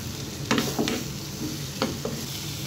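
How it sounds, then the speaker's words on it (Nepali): Tomato frying in a pan while being stirred, a close steady sizzle broken by a few sharp scraping stir strokes, with no voices. "अब यसलाई मजाले भुट्नुपर्छ"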